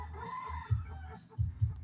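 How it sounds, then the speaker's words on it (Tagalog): A chicken gives a few soft, low clucks in short bursts, quiet and close, with faint background noise between them. "Yung manok niya."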